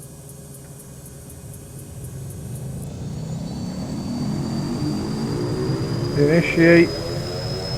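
A simulated Cessna Caravan C208B turboprop engine starts up in a flight simulator, its whine rising steadily and building to a loud, sustained drone while a voice talks over it.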